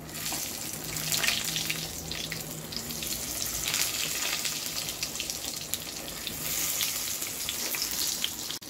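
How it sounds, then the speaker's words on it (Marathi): Stuffed brinjals go into plenty of hot oil in a kadhai with cumin and curry leaves, raising a loud, continuous close sizzle and frying hiss with scattered crackles throughout, no voices. "लगेच टाकणार आहोत आपण ही वांगी।"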